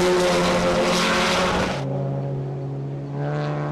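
Volkswagen GTI race cars on a circuit: a loud, high engine scream passes close, then cuts sharply to a lower, fading drone before another engine note rises again near the end, with no talk.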